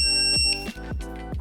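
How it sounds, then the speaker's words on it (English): A BG Sync EV charger emits a series of short electronic beeps after its settings are saved, three or four sharp tones in quick succession, loud and close, with nothing else heard. "The charger will now reset and make an audio beep to indicate the settings have been saved."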